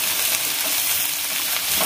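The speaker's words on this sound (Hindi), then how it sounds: "ये गरम मसाला, जीरा और काली मिर्च का पाउडर है। अभी इसे अच्छे से मिला लेंगे।" Garam masala, cumin and black pepper powder are stirred into a pan of frying pointed gourd bhujia, a dense, loud, close sizzle with soft stirring scrapes throughout.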